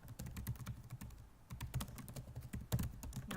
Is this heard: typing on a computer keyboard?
yes